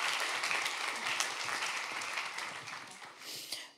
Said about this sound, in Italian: Facciamoci un applauso.